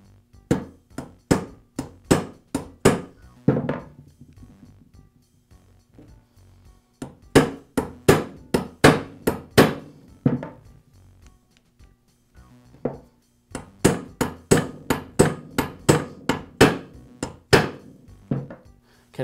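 A hammer drives new roll pins into the piston of a Senco nail gun during a driver replacement, striking in quick runs of sharp, loud metallic taps with short pauses between bursts.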